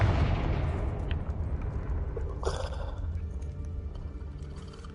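A Confringo fire spell in Hogwarts Legacy bursts with a muffled rumbling blast, then a brief crackling flare mid-clip as the explosion fades into low game ambience.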